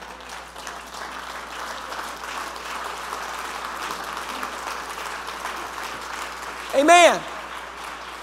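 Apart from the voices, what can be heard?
congregation clapping hands, applause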